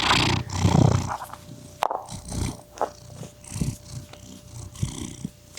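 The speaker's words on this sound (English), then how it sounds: "Give him those kitty purrs." A pet cat purrs close up, a soft rumbling purr that rises and falls in steady breathy pulses, with a few louder huffs and a brief click. No one speaks over it.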